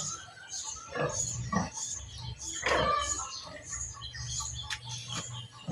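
Pigs grunt and squeal close by inside a piggery, with scattered snorts and shuffling throughout and bird chirps mixed into the steady barn noise.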